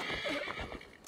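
A horse whinnies in Assassin's Creed Valhalla, one short, close neigh lasting about a second, rising and falling over steady in-game ambience.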